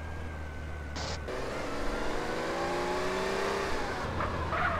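A car in GTA San Andreas drives steadily at night toward a garage, its engine a continuous hum rising slightly in pitch, with a brief hiss near the start.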